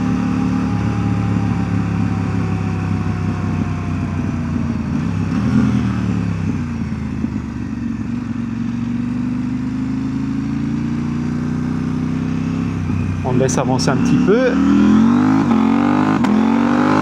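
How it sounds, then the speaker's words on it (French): A KTM 890 Rally motorcycle accelerating off-road, its engine loud and close with rising and falling revs over a long stretch, a brief spoken remark partway through. "J'ai retenu un peu mon accélération, mais si je retenais pas, la moto elle se levait encore et encore."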